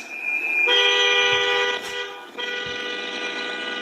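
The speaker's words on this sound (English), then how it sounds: "Look, she in the middle of the street honking the horn." A car horn honks in a long, steady, loud blast on a city street, breaks off briefly, then sounds again in a second sustained blast.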